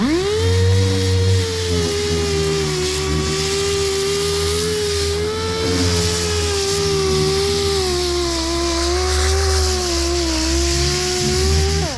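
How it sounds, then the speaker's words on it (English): A Mud Hog orbital sander strips paint off a metal panel with a loud, continuous motor whine that stays steady throughout, with gritty abrasive noise beneath it. It is close and heard alone. "Here's a mud hog. Has just a orbital sander motion."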